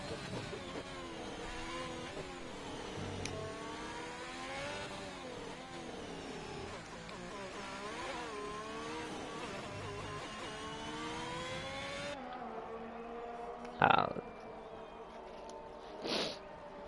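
A Haas Formula 1 car in the F1 2021 racing game screams down the straight at a French race, its high engine note rising and shifting steadily for most of the stretch before cutting to quieter sounds with two short sharp bursts.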